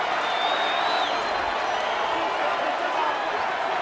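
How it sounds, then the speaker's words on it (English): A baseball crowd at Petco Park roars and cheers steadily as a manager is ejected, a dense wash of noise with whistles rising over the top and a voice talking underneath. "the crowd here at Petco enjoying this one"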